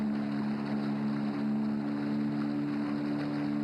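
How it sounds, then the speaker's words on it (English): A motorboat engine on the Kaveri river drones steadily with a low, even hum, mixed with a wash of wind and water noise throughout. "The sound of our motorboat unsettling the pervasive calm."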